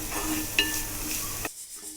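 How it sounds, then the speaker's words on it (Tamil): A soft, steady sizzle of onions sautéing in a pan, with a brief stir or scrape, then it quiets abruptly. "வெங்காயம் சேர்த்து நல்லா பொன்னிறமாக வதக்கணும்."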